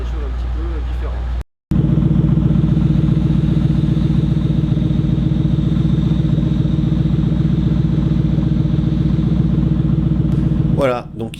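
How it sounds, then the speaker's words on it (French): A 2006 Ford Mustang engine idles with stock camshafts, giving a steady, loud, lumpy burble close by. It starts after a brief cut and runs unbroken until a short shift near the end. "Vous avez entendu le son du ralenti avec les arbres à cam d'origine"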